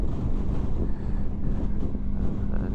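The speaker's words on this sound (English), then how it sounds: "it's a little bit windy" Steady wind buffets the microphone on a fully loaded motorcycle, a continuous low rumbling roar with no pauses.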